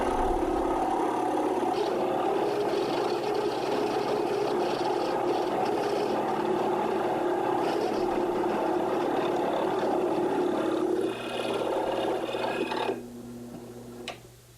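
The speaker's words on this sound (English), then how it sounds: "now using the drill press to cut out part of the shape of the headstock" A loud, constant drill press drone with a grinding edge runs throughout as it cuts a wooden guitar headstock, then drops off sharply near the end as the motor cuts out.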